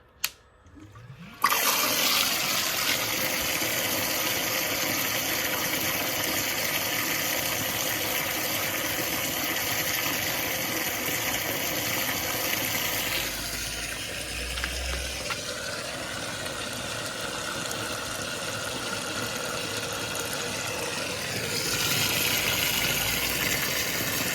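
A Milwaukee transfer pump, partially submerged for yard drainage, switches on with a click and then runs with a steady loud rushing of water and motor hum that continues, shifting slightly midway.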